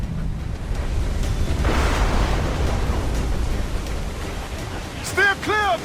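A water spout at sea in Assassin's Creed Black Flag roars as a broad rushing swell of wind and churning water, building then holding steady, with shouting crew voices breaking in near the end.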